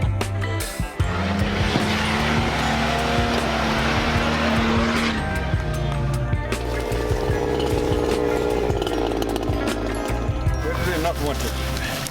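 A 4x4 off-road vehicle is driven hard through a training area, its engine roaring and climbing in pitch with rough clatter and bumps from the terrain. People talk over the engine noise.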